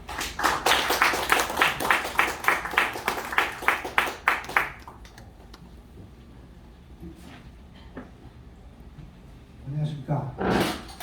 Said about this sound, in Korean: 우리 김규택 이사장님을 박수로 맞이해 주시기 바랍니다